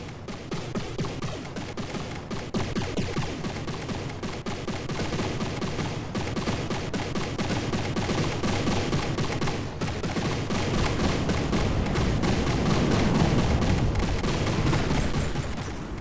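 Rapid gunfire crackles without pause in a robot combat video game, the shots running together into a dense, steady fusillade with occasional heavier thuds.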